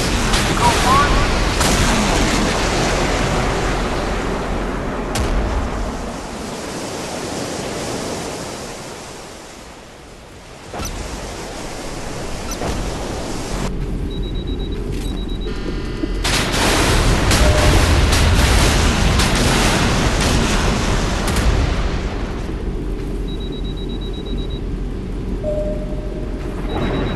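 Modern Warships, a naval video game, plays a submarine missile launch and explosions as loud, continuous roaring rumble with heavy booming surges that fade and return over nearly half a minute.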